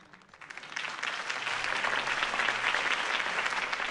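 Crowd applause after a campaign speech in Batman: The Telltale Series, swelling quickly from quiet into a dense, sustained wall of clapping that holds steady.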